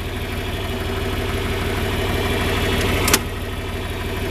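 A John Deere 4010 tractor engine runs steadily nearby with a rhythmic low chugging throb, a short sharp click or clank near the end, and no talking.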